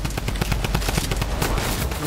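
Rapid bursts of gunfire in the video game Fortnite crackle in quick succession, a dense run of sharp shots filling the whole moment.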